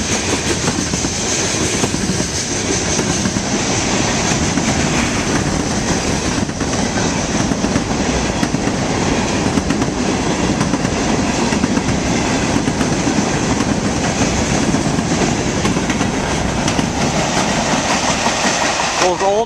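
A BNSF freight train with loaded 4-bay hopper cars of corn rolls past close by in Darling, Minnesota: a loud, continuous rumble with rhythmic clickety-clack of wheels over rail joints, sustained for the whole stretch.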